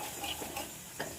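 Spices and ginger-cumin paste being stir-fried in a pan on a home stove, a faint close sizzle with a couple of quick scraping strokes over about a second.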